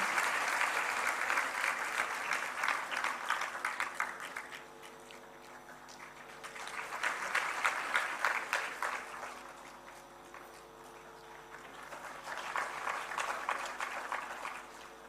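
Sustained applause from a large audience at a ceremony honouring meritorious students, attended by the governor and chief minister, swelling and easing in three waves over the whole stretch with no speech.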